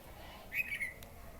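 A single faint, brief whistled bird call rises out of quiet background hiss, distant and soft.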